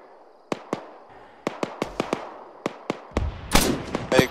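Anti-aircraft fire from an AA nest atop a large dockside building in the video game Arma 3, heard as a string of about a dozen sharp cracks at irregular intervals, growing louder and denser toward the end with a heavier blast.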